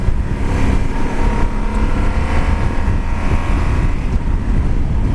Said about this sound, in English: Engine's got a lot of grunt to it in terms of the noise